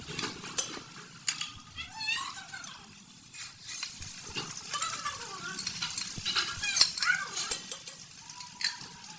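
Browned onion frying with garlic and green chilies added: a soft sizzle runs beneath repeated stirring scrapes and clinks of a utensil against the pan, close and uneven throughout.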